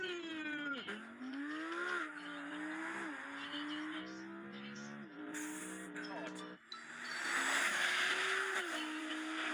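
A fast Audi RS internal-combustion car launches hard in a drag race, engine climbing through rising revs with shift dips and tire noise, loud and close throughout, with a voice heard over the run.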